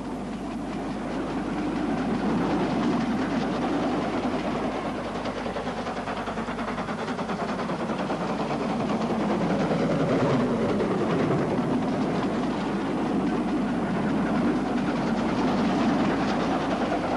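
A vintage train with a mail coach runs along a Scottish railway line downhill toward Aviemore, a loud continuous rumble with steady clattering wheel noise lasting throughout.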